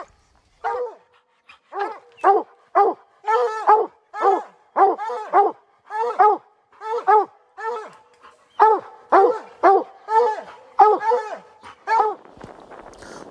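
Hunting dogs on an Appalachian bear hunt bark in a steady run of loud, close, repeated barks for several seconds, ending in a brief rustle.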